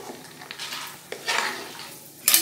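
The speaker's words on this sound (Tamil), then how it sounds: "இப்போ நான் எடுத்து வச்சுருக்க பாதாம் முந்திரி இதை வந்து நெய்யில் போட்டு" Almonds and cashews dropped into hot ghee in a pan: a bright, hissing fry rises and swells with light clinks of metal, close by and without speech.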